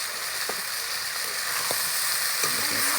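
Pieces of chicken sizzle in hot oil with turmeric in a pan for a Nepali dish, a continuous bright crackle broken by a few clinks of a utensil stirring the meat, with no voices.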